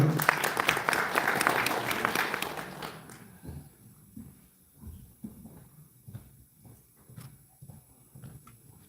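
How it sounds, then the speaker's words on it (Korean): Audience applause at a business support program briefing, a dense burst of clapping for about three seconds that fades out, followed by faint scattered sounds. "큰 박수 부탁드립니다"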